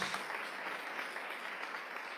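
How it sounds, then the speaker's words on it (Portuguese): A church congregation applauds during a sermon marking 500 years of the Protestant Reformation, a steady wash of dense clapping that holds evenly throughout with no voices over it. "Você pode aplaudir o Senhor Jesus pela obra dele na cruz do Calvário."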